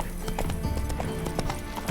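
Horse hooves galloping in The Witcher 3 video game, a quick rhythmic clip-clop of repeated hoofbeats, close and fairly loud, with a brief whinny-like tone in the mix.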